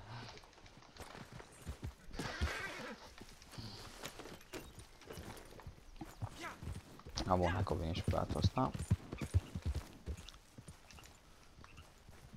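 Horse hooves clip-clop at a steady walking-to-trotting pace in Red Dead Redemption 2, louder in the middle stretch, heard under someone talking in Romanian over the game.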